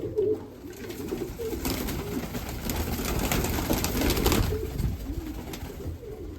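Mykolaiv pigeons coo in a loft, soft throaty calls rolling over a constant murmur of the flock, with no talk.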